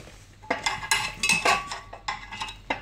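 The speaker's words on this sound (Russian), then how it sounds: "дальше берем отверточку и подцепляем вот" A screwdriver scrapes and clinks against metal while prying stuck pellets out of a Ferroli SUN P7 pellet burner, giving a quick run of close, irregular metallic taps and scrapes with no talk.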